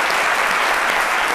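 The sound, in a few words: audience applause for children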